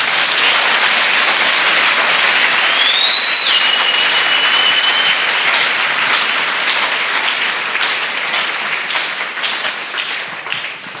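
A church congregation applauds steadily during a Thursday worship service, dense sustained clapping filling the hall for about eleven seconds and slowly thinning toward the end, with a brief whistle-like tone rising over it.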